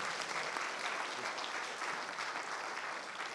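Steady, dense applause from a conference audience at a closing session, continuous and even throughout with no pauses.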